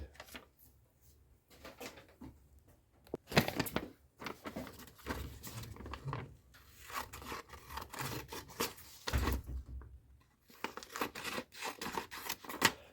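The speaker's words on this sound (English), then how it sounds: "So I'm going to cut this out with a pair of scissors" Scissors snip and crunch through a stiff card paper template in bursts, with rustling and handling noises between the cuts, close by and fairly quiet.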